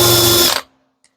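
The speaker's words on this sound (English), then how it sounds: "Then I'll come back and drill the second pilot hole." A power drill bores a pilot hole in wood, whirring loudly and then cutting off abruptly as the trigger is released, followed by a tiny click.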